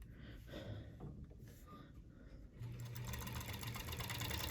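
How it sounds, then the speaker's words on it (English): A serger sewing machine runs steadily, stitching two seam allowances of fabric together, its fast motor whir rising after a quieter start, close and continuous without speech. "we're going to serge those 2 seam allowances together"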